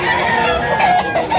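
A six-month-old yellow-legged Sweater line gamefowl rooster gives a short, loud crow at close range.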